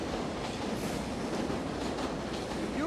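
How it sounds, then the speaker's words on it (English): An elevated subway train rumbles past overhead in a big city, a dense, continuous roar of wheels and rail clatter with a faint squeal near the end. "that overhead elevated sound"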